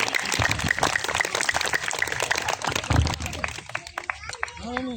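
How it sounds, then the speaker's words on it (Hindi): An audience at an engineering company's silver jubilee celebration applauds in a dense burst of clapping, with voices talking over the noise toward the end. "एक बार भरपूर तालियां"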